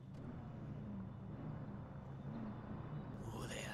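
Modded Ford Crown Victoria Police Interceptor engine in GTA IV, a quiet, steady low drone cruising on a highway, with a brief brighter sound near the end.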